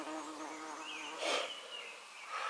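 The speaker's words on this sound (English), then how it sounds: "I am just getting devoured by mosquitoes." Faint, high insect buzzing drifts in and out close by, with a louder whine passing near the middle over quiet outdoor background.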